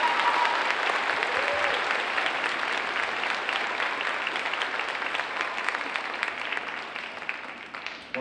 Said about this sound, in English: Give these guys a round of applause for their achievements